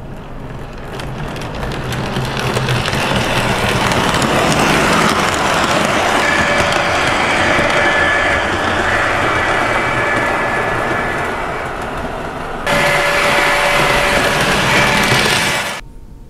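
Lionel Candy Cane Commuter toy train, a motorized unit pulling a dummy trailer, running around a test track with a continuous rattling, clicking rumble that swells and holds close by and loud, with a sharper burst near the end.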